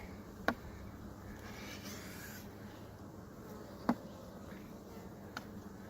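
A honeybee hive holding some ten to twelve thousand bees gives off a steady low hum, close and continuous, broken by a few brief sharp knocks.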